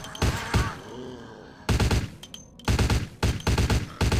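Gunfire from a gun in the video game Vampire the Masquerade Bloodlines comes in loud, close bursts of rapid shots, separated by short pauses.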